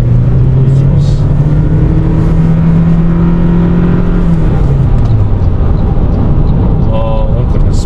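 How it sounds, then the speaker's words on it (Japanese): A 2023 Toyota Prius E-Four hybrid accelerates at full throttle onto an expressway, its steady rising drive hum and road roar filling the cabin loudly throughout, with a faint chime near the end. "ここでとりあえずアクセル全開にしていきます。"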